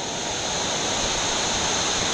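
A waterfall on a whitewater river gives a close, loud, steady rush of water that fills the scene without pause.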